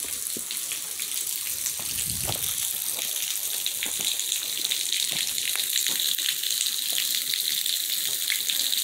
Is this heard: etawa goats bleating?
no